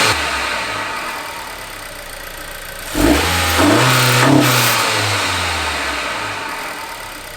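A 2022 Honda Civic engine with a PRL short ram intake idles quietly, then revs sharply twice in quick succession, roaring up and settling back down to a steady idle.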